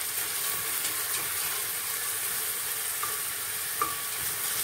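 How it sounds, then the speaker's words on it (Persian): Onions and green beans sautéing for lubia polo, a steady close sizzle and hiss from the pan with faint clinks of stirring, constant and even throughout, no voices. "من زیاد لوبیا پلو رو سرخ نمی کنم، در واقع یه مثل تفت میدم."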